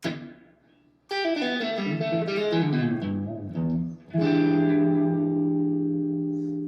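Guitar played through an amp simulation with a delay effect: a burst of notes after a short pause, then a sustained chord whose repeats trail off, with no talk.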